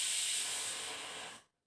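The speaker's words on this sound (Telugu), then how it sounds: "కుక్కర్ విజిల్ పెట్టాలి." A pressure cooker releases a steady, loud hiss of steam up close. It holds for over a second and then cuts off sharply.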